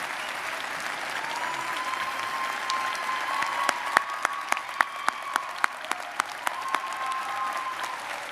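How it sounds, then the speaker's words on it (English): Graduates and guests at a WSU Health Sciences commencement applaud military veteran graduates, a fairly soft, spread-out ovation with a few sharper nearby claps standing out and a faint tone running underneath. "Let's go ahead and applaud."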